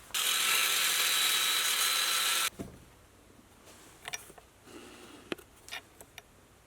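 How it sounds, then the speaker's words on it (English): A wire wheel spins against a brazed cast iron table leg in a loud, harsh, hissing burst lasting about two seconds, then stops abruptly, followed by quieter scattered clicks and handling knocks. "let me clean this thing up with the wire wheel"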